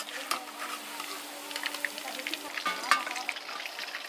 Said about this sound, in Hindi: इसको हम पलट देंगे इस तरह से, और फिर दूसरे तरफ से भी हम बढ़िया से इसको क्रिस्पी कर देंगे।